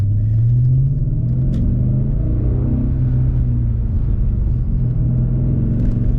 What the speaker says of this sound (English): Hopefully you can hear the lovely sound of the burble of the V8.